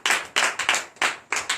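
A church congregation at a teaching service claps in short, rhythmic bursts. Around half a dozen sharp, close hand claps are separated by brief gaps.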